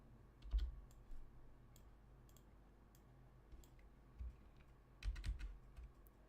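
Fingers type on a computer keyboard, quiet scattered clicks with a few louder bursts of keystrokes, close and faint with no talk.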